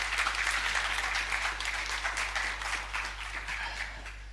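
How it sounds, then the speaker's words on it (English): Conference attendees applaud two speakers at a staking gathering, a continuous, fairly loud patter of clapping across the whole stretch over a steady low hum, tapering slightly at the close. "please give a round of applause both for Darren and for Steve"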